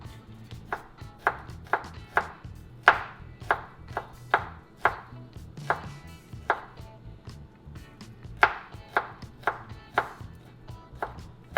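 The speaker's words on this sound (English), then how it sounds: "now I'm gonna break down this garlic" A knife chops garlic on a cutting board while vegan chicken broccoli ziti pasta is being prepared: about twenty crisp, close thuds in an uneven rhythm, with short pauses between bursts and no talking.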